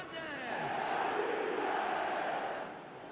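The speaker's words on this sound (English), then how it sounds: "The crowd are calling for this to be put to bed." A stadium crowd chants and roars in eFootball 2025, a broad sustained swell of many voices that rises and holds for a few seconds before easing off.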